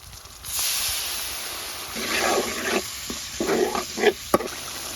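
An onion, turmeric, chili and cumin paste with ginger, cardamom and cinnamon fries in a pan for chicken curry, giving a steady hiss and sizzle with louder stirring scrapes and spatters building toward the end.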